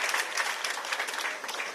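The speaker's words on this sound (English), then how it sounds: "I think the Honorable Minister deserves another round of applause." Dense audience applause for a minister at a formal event, a steady wash of many hands clapping throughout the short stretch.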